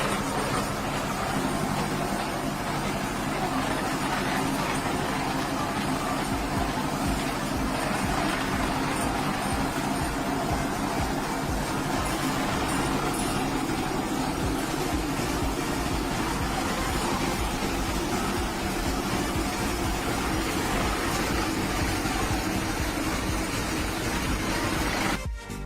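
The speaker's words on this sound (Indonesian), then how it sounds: "Proses pencampuran kita menggunakan mesin supaya campurannya lebih rata." Machine mixing granular fertilizer with power nutrition for oil palm, a steady loud mechanical churn and rumble running continuously throughout without pause.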